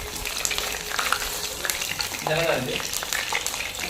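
Chicken coated in masala frying in hot oil, a steady close sizzle with crackling bubbles and a brief stir partway through, with no talking.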